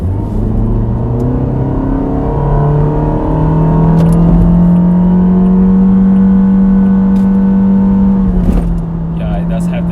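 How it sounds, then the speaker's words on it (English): A 2019 Toyota Vios 1.5E with a CVT accelerates hard on an open road, its engine droning up in a long rising tone that holds steady and then drops off, heard from inside the car with a voice talking over it. "So I guess it's a good chance for me to push the car a little bit."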